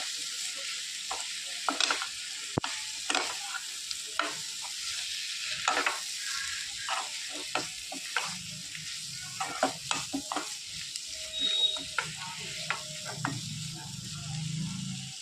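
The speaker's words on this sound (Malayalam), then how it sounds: "പടവളങ്ങയും കൂടെ ചേർത്ത് നന്നായിട്ട് ഇളക്കി യോജിപ്പിക്കുക." Masala-coated snake gourd sizzles in a hot pan while a spoon stirs it, giving a quiet frying hiss broken by repeated scraping and clinking strokes, close and fairly faint.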